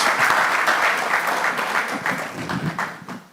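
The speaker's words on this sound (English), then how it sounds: "So let's clap for them." An audience at a conference claps for panel members, a loud, full round of applause that starts strong and gradually thins and softens toward the end.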